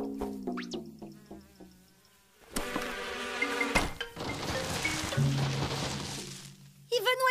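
Cartoon flies buzz in thin, wavering whines amid a busy animated soundtrack with music, thumps and crashes, and a voice speaks toward the end.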